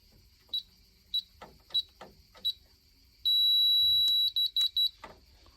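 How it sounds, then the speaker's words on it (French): A series of short, sharp electronic beeps from an aluminium bioclimatic pergola's control box, four quick ones spaced evenly, then one long sustained tone followed by a few more rapid beeps. "je vais appuyer, ça va faire des bips"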